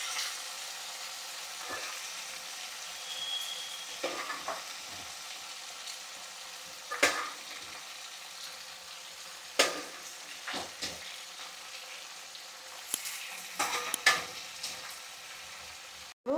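Chicken sizzles steadily in a pan as it is fried for biryani, a soft continuous crackle punctuated by occasional sharper stirring scrapes and clinks.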